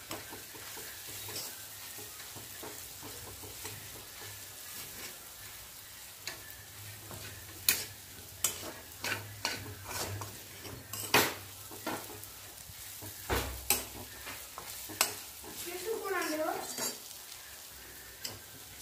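Moong dal halwa being stirred and roasted over low heat in a steel kadhai, a soft continuous sizzle broken by scattered spoon scrapes and taps against the metal pan, with a brief voice near the end.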